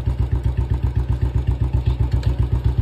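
Royal Enfield Bullet motorcycle with a 350 cc engine idling in neutral, a loud close thumping beat with an even, rapid rhythm and mechanical clatter throughout.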